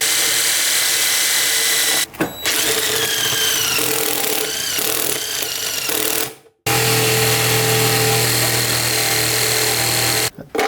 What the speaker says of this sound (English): You just drill a hole and then stick this through it